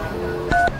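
Telephone keypad dialing tones, a short pair of clear DTMF beeps close together, sounding over low background noise with no talk.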